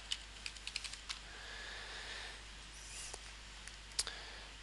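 A password is typed on a computer keyboard in a university maths student lab, with a quick burst of close key clicks followed by a few scattered taps over a faint hum.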